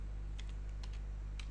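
Computer keyboard typing while setting a Windows environment variable during a JDK install, a few quick separate keystrokes, soft and close over a steady low hum.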